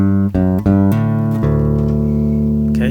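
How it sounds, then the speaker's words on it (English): Bass guitar playing a chord melody, a few quick plucked notes followed by a long sustained melody note ringing over held lower tones, close and clear with no talking. "I just sustain a note of the melody and then continue on playing the rest of the melody"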